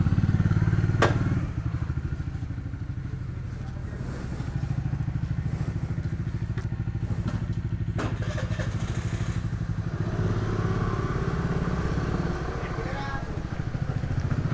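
A scooter rides along a road, a steady low engine drone with rumbling wind and occasional thumps running throughout.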